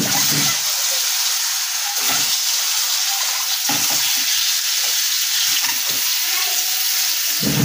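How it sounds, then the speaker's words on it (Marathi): Boiled eggs fry in hot oil with turmeric and salt, giving a loud, continuous sizzle with a dense hiss that holds steady throughout, with no voices. "आता हे उकडून घेतलेली अंडी मी थोडंसं हळद टाकतोय तेलामध्ये आणि मीठ टाकतोय थोडंसं, आणि हे अंडे फ्राय करून घेतोय।"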